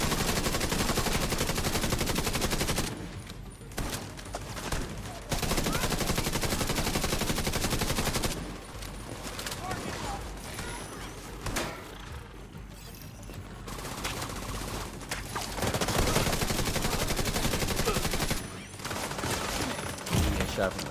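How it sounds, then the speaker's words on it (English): Sustained bursts of gunfire in the shooter game The Division 2 as enemies hit the player from the side and behind, loud and dense with short gaps between volleys. "Getting shot from the side. Watch out that guy there. Oh, getting shot in the back."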